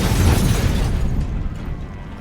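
A car soaked with gasoline explodes on a road where police are approaching, giving one loud, close blast whose rumbling roar slowly fades over about two seconds.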